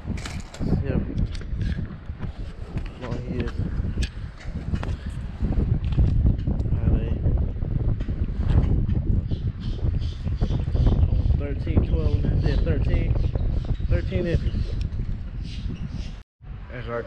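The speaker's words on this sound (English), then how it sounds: "See, it's getting a little bit windy out here." Wind blowing outdoors at Jekyll Island, Georgia, a steady broadband rush and buffeting on the microphone that runs throughout under someone talking, with a brief dropout near the end.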